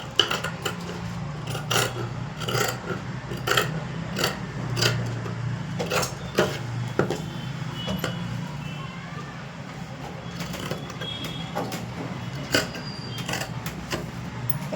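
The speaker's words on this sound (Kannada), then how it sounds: "ಇವಾಗ ಕಟ್ ಮಾಡ್ಕೊಳ್ತಾ ಇದ್ದೀನಿ ನಾನು" Scissors cutting through blouse fabric on a table, a run of sharp, irregular snips and scraping rasps close by, with a low hum underneath.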